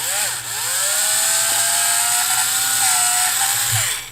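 A high-pitched drill whines steadily for several seconds, its pitch dipping briefly near the start and shifting slightly as it bites into Titanic model parts.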